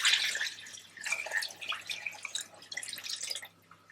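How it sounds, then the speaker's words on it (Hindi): Chicken stock (yakhni) is poured into a pot for a spicy Lahori aloo chicken shorba, making bursts of splashing, gurgling liquid that come and go over a few seconds, close and moderately loud. "तो अब इसमें हम डाल देंगे वो यखनी जो हमने अलहदा कर ली थी मसालों से और चिकन से।"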